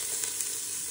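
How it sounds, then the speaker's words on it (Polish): Onion, carrot, garlic and celery sizzle in a pot for braised beef cheeks, a steady bright frying hiss with a couple of small crackling pops, close and continuous with no voices. "I teraz na tym, co tutaj zostało w garnku, będę podsmażał cebulę, marchewkę, czosnek i seler naciowy."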